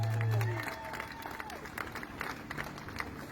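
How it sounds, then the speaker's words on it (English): Scattered applause and light crowd noise at an outdoor rally, moderately loud, mixed with a low hum and some voices underneath. "I think everybody here needs to give them a big warm of applause"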